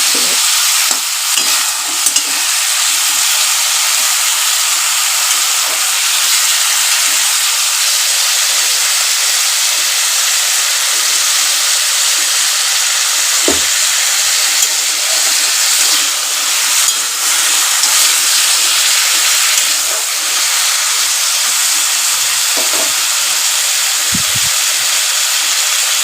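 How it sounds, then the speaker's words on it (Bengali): Potatoes fry in oil with bay leaves, a loud, dense and steady sizzling hiss close up, with occasional low knocks and scrapes of stirring. "এই তেজপাতা দিয়ে ভাজতে থাকবো"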